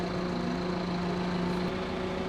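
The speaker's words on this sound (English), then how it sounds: "Bring the tractor revs to wherever we want them" A tractor engine running during vineyard barrel pruning, a steady mechanical drone with a sustained hum that shifts slightly in pitch as the revs settle, with no talking.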